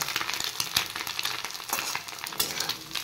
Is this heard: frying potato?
yes